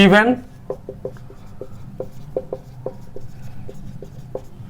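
A teacher writes on a board during a maths class, producing a string of light, irregular taps and scratches after a brief burst of speech at the start.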